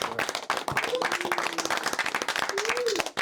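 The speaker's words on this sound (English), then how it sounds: "let's give him another round of applause first" A round of applause from a crowd, dense steady clapping that fades out at the end, with a voice briefly audible over it.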